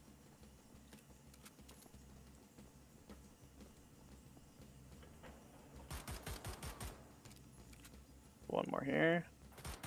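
Gunfire in a video game: a rapid burst of several shots rings out over quiet background game sound, followed by a short stretch of talking.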